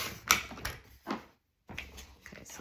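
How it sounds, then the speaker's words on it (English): Knife or blade trimming a thin sliver off a book page during a papercraft project, heard as a few sharp close scraping and cutting strokes with a brief silent gap partway through. "I just have a little sliver that I need to trim off"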